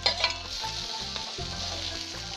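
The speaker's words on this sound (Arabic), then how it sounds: "دلوقتي بقى بعد ما البصله بتاعتي اخدت اللون الجميل ده كده هنزل بالخليط الخضار ده" Browned onions with garlic and a vegetable mixture frying in a pan, a loud, steady sizzle and crackle with stirring scrapes throughout, no voices.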